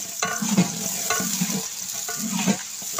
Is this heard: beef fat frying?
yes